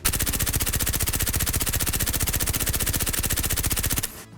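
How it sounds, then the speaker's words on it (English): In a video game, an MP7A1 submachine gun fires one long, rapid, evenly spaced automatic burst at a wall for about four seconds. The burst is loud and close, then stops abruptly. "So if I shoot this wall and keep my hand really still, you'll see the recoil pattern."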